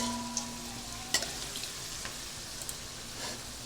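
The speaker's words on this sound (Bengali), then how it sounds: "এখন আমি আলুটা ভেজে নিচ্ছি" Potatoes frying in a pan, making a continuous close sizzle with a few scattered pops and one sharper clack partway through, and no voices.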